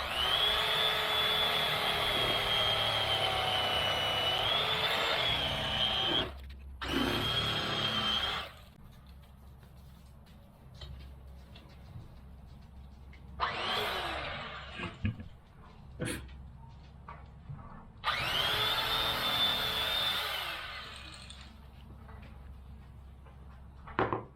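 A tool makes a rough cut through the seat foam of a Honda GoldWing motorcycle, a harsh buzzing whine in long stretches separated by quieter pauses filled with soft handling noises.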